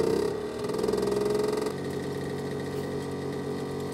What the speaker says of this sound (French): mon ventilo fait un drôle de bruit